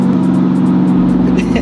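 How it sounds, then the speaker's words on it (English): A quick car accelerating hard, its steady engine drone loud and close with a strong low hum, while voices talk over it. "That car is quick, guys."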